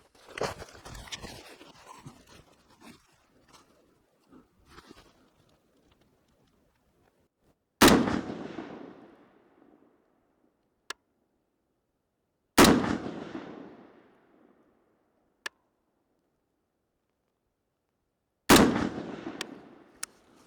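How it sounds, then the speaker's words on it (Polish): Three loud, sharp rifle shots on an outdoor 100 m range, each spaced about five seconds apart with a reverberant tail that fades out. Soft handling noises come before the first shot, and there is no talk. "Ok, próbuję ostatni raz strzelać na 100 metrów, później pójdziemy na 50."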